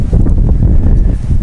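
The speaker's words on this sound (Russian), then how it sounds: "Короче, ветер сильный." Loud, constant wind buffeting the microphone, a heavy low roar with gusty rumbling throughout and no voices.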